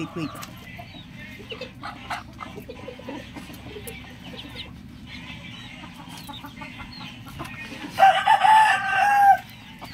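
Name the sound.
Texas breed rooster crowing and clucking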